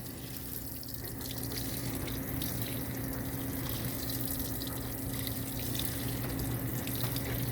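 A GE top-load washing machine fills with water on a deep-fill bulky items cycle, a steady rushing stream pouring into the drum with a low constant hum running under it throughout.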